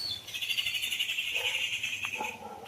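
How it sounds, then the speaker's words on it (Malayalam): Small birds call with thin, high chirps while chasing a larger bird outdoors, a sustained shrill note followed by a few brief calls, fairly faint against quiet surroundings. "ചെറിയ കിളികളാണ് അതിനെ ഓടിക്കുന്നത്"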